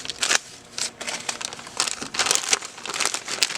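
Close, crisp crinkling of crushed plastic candy packaging, repeated in irregular bursts as it is squeezed and handled, with no talking.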